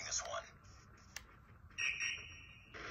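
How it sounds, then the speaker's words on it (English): Electronic metal detector beeping in the mobile shooter Call of Duty Mobile during a Hardpoint match on the Terminal map, short repeated tones that start and stop among game effects and background noise. "Metal detector make noise."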